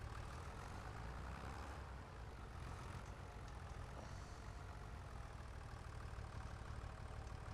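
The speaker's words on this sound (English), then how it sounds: "Check on that other tractor." A tractor engine runs in the video game Farming Simulator 25 as a steady, quiet low rumble with a faint mechanical hum, holding an even level throughout with no talking.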